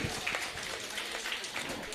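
Audience applause at a Hindi New Year program held by an Arya Samaj youth wing, a fairly quiet, continuous spread of clapping from a crowd at some distance, with faint voices mixed in.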